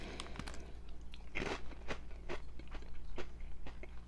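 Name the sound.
biting and crunching Cheetos snacks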